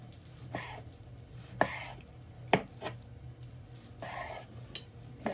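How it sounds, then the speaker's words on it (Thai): A knife chops ingredients for a Thai sweet honeycomb mushroom and pork sausage salad in about half a dozen separate, fairly loud cuts on a board, with a faint hum underneath and no talking. "หั่นตามใจชอบจ้ามักแบบไหนก็หั่นไปเลยนี่จ้ะ"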